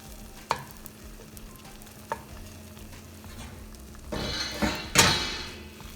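Chorizo and eggs fry in a pan with a low crackling sizzle and a few spaced spoon taps, then the frying swells louder and hissier near the end as the mixture is pressed and stirred.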